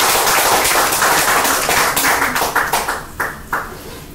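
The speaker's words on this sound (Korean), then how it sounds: "저희가 박수로 한번 원장님 응원하면서 시작해보겠습니다." A gathered audience claps together at a community clinic event, a burst of dense applause that thins into a handful of distinct, spaced claps before dying away.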